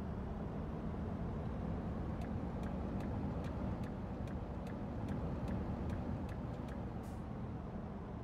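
A construction vehicle in the Bau-Simulator video game driving at a steady pace, with a low continuous engine rumble and road noise plus a row of faint regular ticks partway through.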